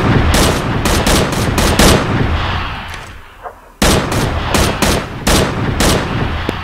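Video game gunfire rings out ahead in a Fallujah urban combat shooter: loud, rapid automatic bursts that repeat in clusters, break off into a brief quiet stretch, then resume just as hard.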